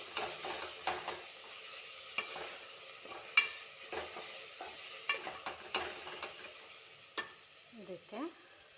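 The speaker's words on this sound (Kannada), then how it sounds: "ಇದಕ್ಕೆ ಕೊಬ್ಬರಿ, ಮಿಕ್ಸ್ ಮಾಡ್ಕೊಂಡಿರೋಂಥ ಕೊಬ್ಬರಿ ಹಾಕ್ತಾಯಿದ್ದೀನಿ. ಇದು ಕೊಬ್ಬರಿ ಹಾಕಿದ್ದೀನಿ. ಇದನ್ನು ಚೆನ್ನಾಗಿ ಮಿಕ್ಸ್ ಮಾಡಿ" Grated coconut stirred into a sizzling mixture in a frying pan, with a steady low frying hiss and scattered close scrapes and clicks of a spoon against the pan, no talking.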